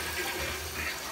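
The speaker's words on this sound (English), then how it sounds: "you're supposed to flush a few times just to make sure" A replaced 1980s toilet flushes with a steady, rushing gush of water close by, with no voices over it and no break in the sound.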